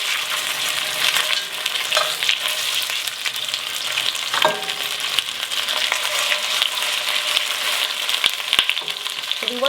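Meat sears in a hot pan with a loud, continuous sizzle and crackle, close up and steady throughout, with occasional stirring or shifting in the pan and no talk.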